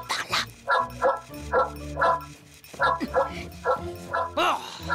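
A cartoon character imitates dog barking in rhythmic, loud bursts, several yaps repeating over music, with voiced barks resembling a human mimicking a dog.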